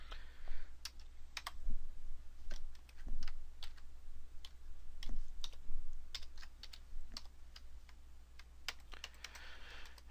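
Steady typing on a computer keyboard, with irregular quick key clicks over a low hum.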